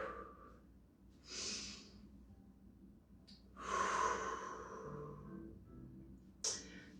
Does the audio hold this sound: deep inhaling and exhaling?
yes